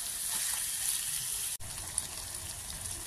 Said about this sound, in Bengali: ওই পাতিল ধুয়ে হালকা একটু পানি দিয়ে দিব যেন ভালো করে এগুলো কষানি হয়